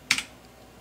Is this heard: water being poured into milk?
no